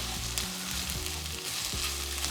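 Orzo toasting with garlic in a hot pan gives a steady, close sizzle and crackle that carries on without a break, with no voices over it.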